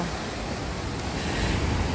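Sea waves at an Odesa beach make a continuous, broad wash of surf that swells slightly louder toward the end, steady and close with no voices.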